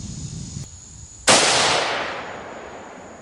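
Remington 783 youth model rifle in .243 firing Remington Core-Lock ammunition: a soft click, then one loud, sharp report with a long decaying echo trailing off, close up and without talk.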